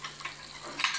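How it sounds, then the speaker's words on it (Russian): Potatoes stewing in a hundred-year-old frying pan make a faint, steady sizzle with a few soft stirring scrapes, heard close and alone with no talk. "Все, картошечка дотушивается, дотушивается."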